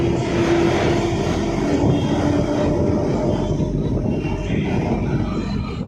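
A metro train rumbles steadily, a loud broadband roar with a faint tonal whine, holding constant throughout.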